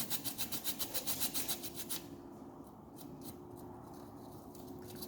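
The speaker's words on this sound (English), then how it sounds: "Grater in some turmeric." Raw turmeric scraped on a hand grater in a fast, even run of about a dozen close, rasping strokes, then softer scattered scrapes after a brief pause.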